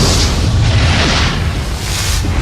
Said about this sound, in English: It's just the sheer, terrible beauty of a really dramatic explosion from the inside.